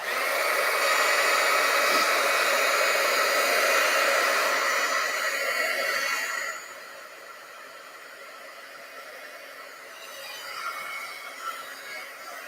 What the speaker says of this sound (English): let's see if we can dry this one with the heat gun